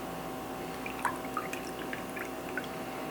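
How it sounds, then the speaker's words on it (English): Rum punch poured over ice in a glass gives soft, faint drips and liquid trickles with a few light splashes over a steady background hiss. "now what we're going to do is just pour that over a little bit of ice"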